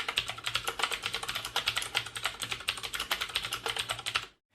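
Rapid, steady typing on a Logitech MX Keys low-profile keyboard, a dense run of soft, quiet keystrokes heard close up that stops abruptly at the end.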